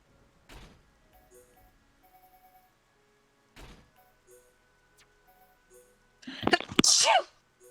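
A loud sneeze bursts out near the end, close and sharp, following two soft thumps earlier in an otherwise quiet room.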